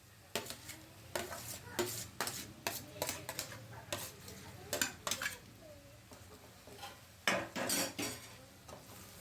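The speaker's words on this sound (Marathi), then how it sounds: "यामध्ये आता बारीक केलेले वांगे घालणार आहोत।" Chopped eggplant being stir-fried in a pan for Khandeshi bharit, with a steady run of spatula scrapes and clinks against the metal, close and fairly loud, over a faint sizzle.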